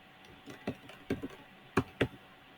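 Several quick key presses on a computer keyboard while entering test contact details in ERP software, coming in short clusters of clicks close to the microphone with no talking.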